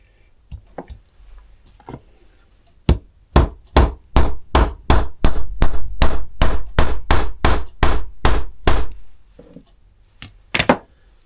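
Sharp metallic hammer strikes ring out in a quick, steady series of about twenty blows, loud and close, after a few scattered taps, driving pins into a metal button die.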